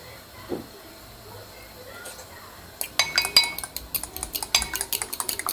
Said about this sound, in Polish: Mieszam jajka.